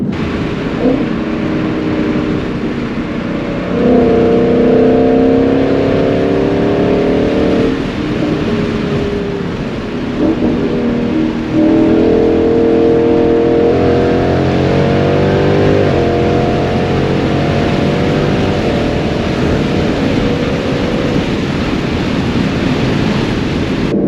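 A car engine on a new tune running 93 octane and E85 hums and revs steadily through gear changes on back roads, with road and wind noise constant and no talking.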